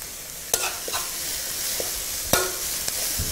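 Onion, carrot and chopped ham stir-fry for ham and vegetable fried rice, a steady hiss of frying broken by a few sharp scrapes and clacks of the spatula against the pan.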